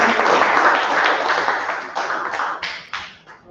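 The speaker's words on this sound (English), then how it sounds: "Big round of applause for that" Audience applause at a Toastmasters-style club meeting after a speaker's closing quote, dense and loud clapping that thins out and fades toward the end.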